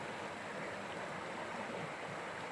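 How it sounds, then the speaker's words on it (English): A stream flows over rocks in a steady, soft wash of running water, quiet and continuous with no voices. "watch the water flow and listen to the sound of the water"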